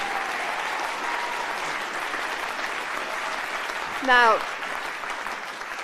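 An audience at a Reform UK political rally in Lincolnshire applauds a speaker with steady, sustained clapping, and a voice briefly cuts in near the end.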